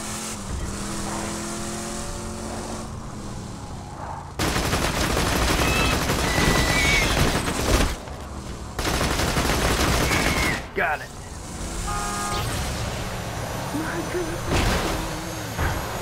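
Bursts of machine gun fire in Borderlands 2 come in long, loud stretches, broken by quieter gaps filled with engine and vehicle noise.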